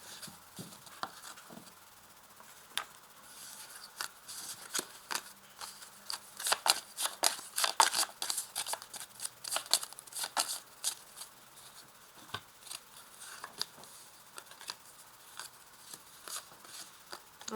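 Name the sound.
shuffling and drawing cards for a reading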